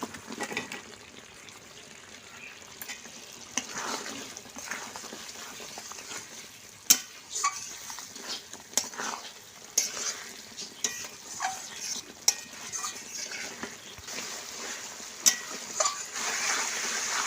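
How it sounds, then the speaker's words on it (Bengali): Fried potatoes stirred into a sizzling spice masala for a village-style snakehead fish curry; a continuous fry sizzle runs under repeated clinks and scrapes of a spatula against the pan. "ভেজে রাখা আলুটাই কষানোর মধ্যে দিয়ে দেব।"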